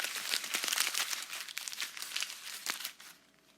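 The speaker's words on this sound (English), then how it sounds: "I can definitely hear this paper crumpling up" A sheet of paper is crumpled up close by, giving about three seconds of dense crinkling and crackling that fades out at the end.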